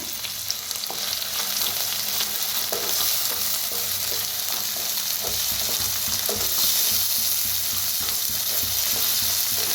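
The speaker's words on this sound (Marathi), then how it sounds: "त्याच्यातच टाकूया टमाटर, कोथिंबीर भाजायची याच्या संगच।" Tomato and coriander roast in a pan for a spiced brinjal dish, a constant close sizzle broken by regular scraping strokes of a spoon stirring, with no voices.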